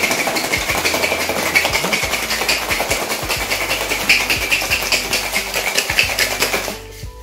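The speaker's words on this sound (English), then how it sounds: "it's gonna be a half shake. So, everything into the shaker." Cocktail shaker loaded with rum cocktail ingredients for a Millionaire, given a dense, steady rattling shake of ice that runs nearly seven seconds at close range, then stops abruptly.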